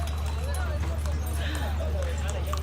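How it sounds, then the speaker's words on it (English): Horse-drawn carriage ride in Egypt, with hooves clip-clopping steadily on the road and a constant low rumble of wheels and traffic beneath, while passengers chatter. "So I don't quite know where we're riding the horse to, but we're on."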